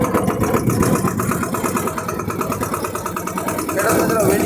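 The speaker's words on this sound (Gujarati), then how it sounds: "આપણે ચલાવ્યું છે ટ્રેક્ટર" A Massey mini tractor engine runs at a steady, close chugging idle while people talk over it.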